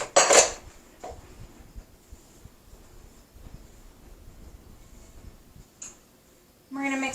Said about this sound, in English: we're going to mix all of our wet ingredients into our dry ingredients